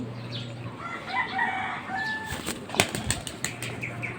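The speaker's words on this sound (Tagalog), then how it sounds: "Parang burukuto, pumapalo yung pakpak." Racing pigeons' wings flap loudly and crack as the birds land, a flurry of sharp wingbeats near the loft with a rooster crowing and clucking faintly in the background.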